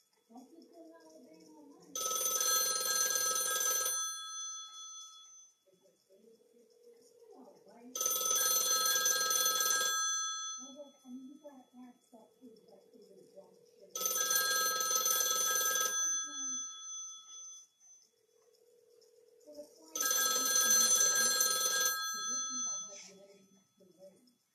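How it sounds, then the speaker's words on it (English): A 1951 rotary dial desk phone's mechanical bell rings in four long bursts of about two seconds each, evenly spaced with pauses between, fairly loud and close, with a faint low hum in the gaps. "This is my 1951 rotary dial desk phone."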